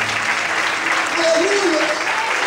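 A church congregation claps in a sustained, steady round of applause while a voice speaks faintly underneath.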